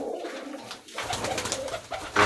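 Rolling pigeons, a Bangladeshi flying breed kept on a rooftop loft, coo in a steady low murmur that swells after a brief lull, with a busy flock and rustle around them.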